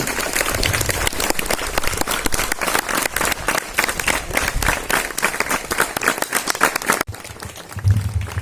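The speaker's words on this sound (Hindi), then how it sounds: "तालियां लगातार बजनी चाहिए" Students at an Independence Day ceremony at an inter college clap loudly and continuously, a crowd of sharp overlapping claps that briefly drops off near the end before resuming more faintly.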